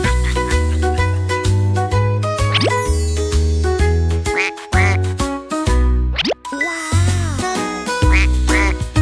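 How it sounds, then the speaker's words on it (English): Cartoonish duck quacking bursts in a children's song, over a bouncy, plucky musical backing with boings and plops, loud and steady throughout. "Mama duck said quack, quack, quack"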